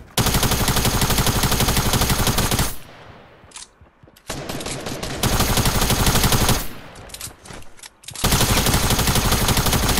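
Sustained automatic gunfire from a tactical SMG and an assault rifle in the online shooter Fortnite Battle Royale on PS4, dense rapid bursts that are loud and close, broken by short lulls with scattered single shots.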